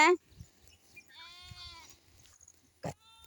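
Grazing sheep and goats in a hot, sunny pasture, one giving a clear, wavering bleat close by, followed by a short sharp call and soft background noise.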